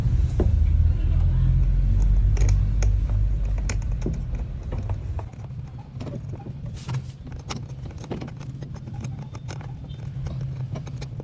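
A car with a hard-starting fault cranks loudly with a steady low mechanical rumble, then settles into a rougher, uneven running idle. Light clicks sit on top, and a voice murmurs faintly in the background.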